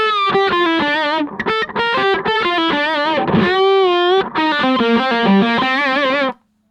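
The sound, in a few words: Killer Queen amp cab tone, NAM A2 starter pack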